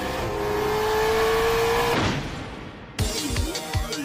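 An anime racing scene from MF Ghost: a race car engine holds a steady high drone, then the car roars past, followed by a burst of fresh engine revving and tire noise.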